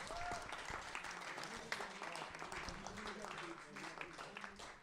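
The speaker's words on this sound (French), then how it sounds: "vous pouvez les applaudir sur ce travail qui a été fait là" A crowd at a beatmaker contest applauds with dense, continuous clapping that stays fairly steady and distant, with voices mixed into the noise.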